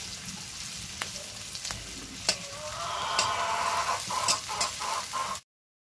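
Onion and bitter gourd frying in a pan while being stirred, a close steady sizzle with scraping clicks, and a hen clucking in the background before the sound cuts off.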